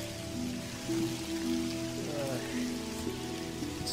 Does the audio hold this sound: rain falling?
yes